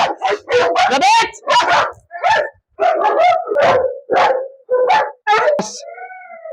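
A young seven-month-old dog barks in a string of sharp, close yips and woofs, ending with a short whining howl, with someone talking in between.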